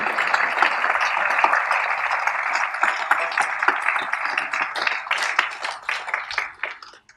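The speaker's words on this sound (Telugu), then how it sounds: "ఒక్కసారి గట్టిగా చప్పట్లు కొట్టుకుందామండి" An audience at a Telugu motivational talk claps hard together, a dense, even wash of hand claps that carries on for several seconds and then fades near the end.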